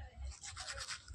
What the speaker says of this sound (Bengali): চলো ব্রাশটা করে নিই।